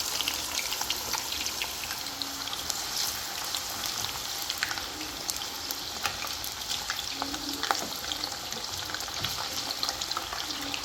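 Potatoes and eggplant fry in a pan with a steady, close sizzle and crackle, broken by occasional scrapes and clinks of stirring, with no talking.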